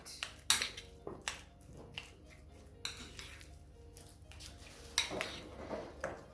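Dagwood batter with salt is mixed in a bowl, with repeated light clinks and scrapes of a utensil against the sides, fairly quiet and close.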